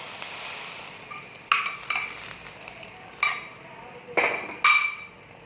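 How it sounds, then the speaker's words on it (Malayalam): A tempering of curry leaves fried in oil is poured into a Kerala-style kera fish head curry, giving a close, steady sizzle broken by several sharp metallic clinks and scrapes of a utensil against the pot. "ഇനി ഇത് വറവ് ഞാൻ ഇതിലോട്ട് ഒഴിച്ച് കൊടുക്കുകയാണ്"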